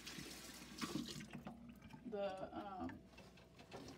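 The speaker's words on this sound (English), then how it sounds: "Now I'm rinsing out this tank and getting all the" Water running and splashing while an axolotl tank is rinsed out, a soft, fairly faint gush with trickling, and a person's voice heard over it.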